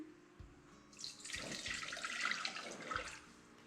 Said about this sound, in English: Okay, so we're going to get a pot, put 3 cups of water in.